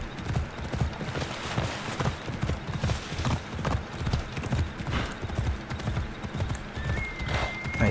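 Horse hooves clip-clopping up a mountain slope in the video game Assassin's Creed Odyssey, a steady, close, rhythmic stream of hoof falls that continues throughout.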